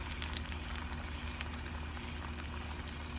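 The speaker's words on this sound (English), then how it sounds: "I think this oil has just gotten so hot, it just cooks it almost instantly" Fish frying in very hot oil at a campout, giving off a steady, close bubbling sizzle with tiny crackles throughout and no talking.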